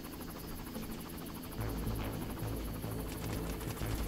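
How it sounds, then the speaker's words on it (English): Helicopter in the video game Far Cry, a steady rotor hum and buzz at moderate level, with a low thumping pulse growing stronger in the second half. "I'm gonna have to blow that helicopter up."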